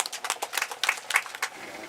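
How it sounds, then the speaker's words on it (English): Scattered clapping from a small crowd at a flood-prone site tour in Nigeria's FCT, a few seconds of uneven, fairly quiet applause with no voices over it. "I think we deserve an applause."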